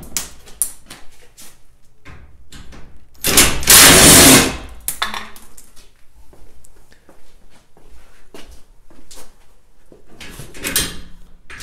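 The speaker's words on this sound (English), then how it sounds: "Ryobi impact driver with a star hex on the front of it." A Ryobi impact driver with a star hex bit backs bolts out of an IBC tote frame in short bursts, with one longer loud run in the middle and clicks and handling knocks between.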